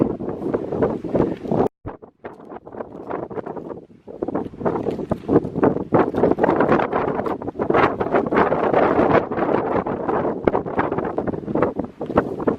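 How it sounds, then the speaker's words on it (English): Loud, buffeting mountain wind on the Mount Whitney Trail pounds the microphone in heavy gusts, roaring almost continuously with one brief lull, close and overwhelming. "It's extremely windy on this side."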